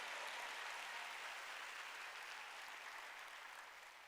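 Sustained applause from a church congregation during a Korean sermon, a dense steady wash of many hands clapping that holds for several seconds, then begins to fade slightly near the end.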